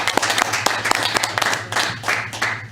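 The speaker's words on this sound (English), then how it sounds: "another round of applause for them, because they deserve it." A round of applause at a school board of education meeting, many hands clapping steadily and fairly close in a meeting room, with a voice faintly audible under the clapping.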